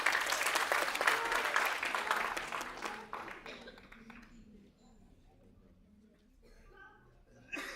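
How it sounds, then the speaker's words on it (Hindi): A hall audience applauds a speaker at a formal cultural event, a dense patter of many hands that fades out after about three seconds, leaving quiet room tone with faint murmuring and a soft thump at the end. "एक बार जोरदार तालियां महोदय के लिए।"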